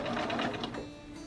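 A sewing machine runs steadily while top stitching a folded hem on a maternity dress, a close, even mechanical whir with rapid needle ticking, heard alone.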